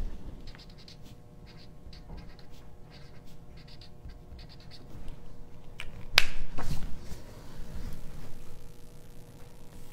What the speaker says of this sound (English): you're gonna wanna write your name on the tag right here